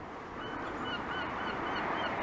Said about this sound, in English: And seagulls.